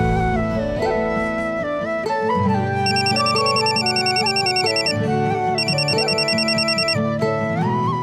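A telephone ringtone plays a bright, repeating electronic melody, loud and continuous with no talking.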